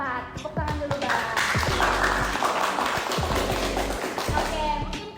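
Students clapping at a university environmental engineering association podcast, steady dense handclaps running throughout, mixed with voices and background chatter.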